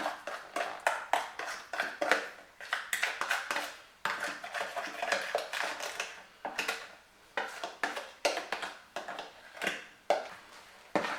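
A utensil scraping and knocking around a bowl while eggs, sugar and oil are stirred into a challah dough starter, in quick rhythmic strokes broken by short pauses, close and fairly quiet.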